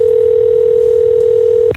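A steady, loud telephone dial tone held as one unbroken hum for nearly two seconds, then cut off abruptly.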